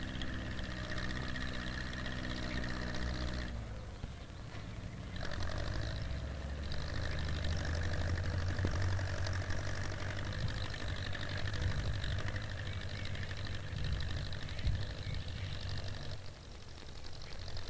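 A tractor engine pulling a four-row planter drones steadily at close range, a continuous low mechanical rumble with a brief dip in tone partway through.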